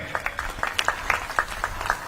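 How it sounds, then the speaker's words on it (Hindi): A crowd at a community felicitation ceremony in Chhattisgarh applauds to welcome Narendra Modi, with scattered, fairly soft claps sounding at a distance over a faint background hum. "इसके लिए भी आप नरेंद्र मोदी जी का तालियों से स्वागत करें"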